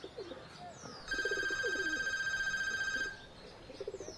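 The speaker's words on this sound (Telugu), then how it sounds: "తాత ఫోన్ తీయండిరా." A telephone rings once with a long, steady electronic tone that lasts about two seconds, fairly faint against a quiet outdoor background with distant bird calls before and after it.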